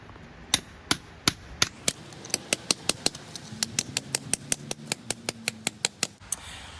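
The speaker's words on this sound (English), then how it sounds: "The first thing I need to do is to remove this unfit mortar to create room for the new pointing mortar." Old mortar is chipped out of cobblestone joints with a hammer and chisel during heritage masonry pointing work, a close series of sharp, evenly paced metallic taps that speed up toward the end.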